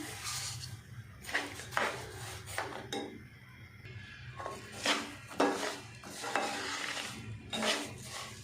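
Spoon stirring sugar into suji besan halwa in a pan, a series of scraping, rasping strokes in an irregular rhythm over a steady low background hum, close and moderately loud, with no speech.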